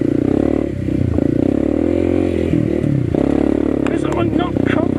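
CRF301CC motorcycle ridden off-road at light throttle, its engine a steady close drone with slight rises, plus clatter and scrapes from the terrain; a rider talks over it.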